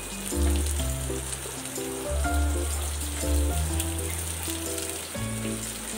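Capsicum pieces frying in a pan for chilli chicken give a steady, hissing sizzle that runs throughout beneath louder background music.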